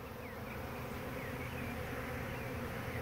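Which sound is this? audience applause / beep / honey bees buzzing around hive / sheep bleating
honey bees buzzing around hive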